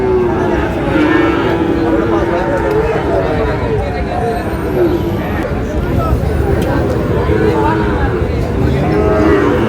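Sahiwal bull calves at a busy Dinajpur cattle market, with cattle lowing amid a dense crowd babble; people talk and bargain loudly close by throughout.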